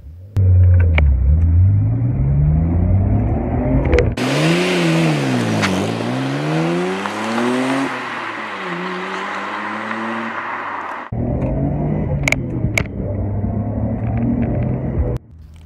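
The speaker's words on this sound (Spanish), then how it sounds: "Para tener 25 años, la aceleración es sorprendentemente fuerte." A 25-year-old Nissan Skyline GTR accelerates hard, its engine revs climbing and dropping through gear changes with a loud, close rumble, then roars on at high load with rising wind noise.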